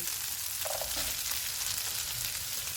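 Chicken pieces fry in a pan over medium-high heat, giving a steady, close hiss of sizzling with faint stirring scrapes, no voices.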